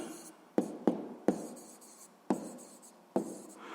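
A pen scratches across paper while a sixth-grade fractions exercise is worked out. Five sharp, close strokes each trail off into brief scratching, quiet and with no talk.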